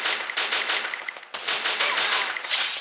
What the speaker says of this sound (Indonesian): saat tembak gua ada seret ke atas